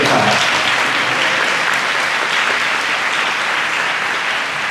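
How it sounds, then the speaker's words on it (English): Steady, dense applause from an audience at a fifth grade closing ceremony, loud and sustained throughout with no pause, slightly fading at the very end. "It's okay to clap."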